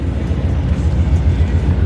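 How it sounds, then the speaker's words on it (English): Freight train rolling through a small Georgia town, a steady low rumble held at an even loudness for the whole span with no other sounds on top. "A train that comes through them. Freight train."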